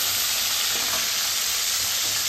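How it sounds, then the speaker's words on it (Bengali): Pieces of shol fish (snakehead) fry lightly in hot oil with a loud, dense, continuous sizzle that holds steady throughout. "হালকা একটু ভেজে নিই"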